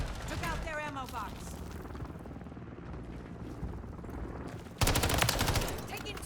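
Gunfire in the shooter game Call of Duty Modern Warfare 3: rattling bursts and shots under a player's speech, quieter through the middle, then a loud sudden burst of rapid fire near the end.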